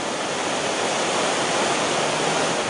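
Towanda Creek, flooded after heavy rains, rushes past in a dense, steady roar of fast-moving water, loud and unbroken throughout with no voices.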